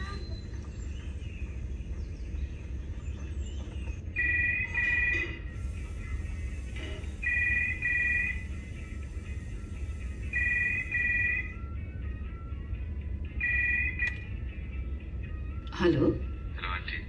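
A telephone rings in a home in repeated double trills with short gaps between them. People talk under it, and a louder knock or clatter comes near the end.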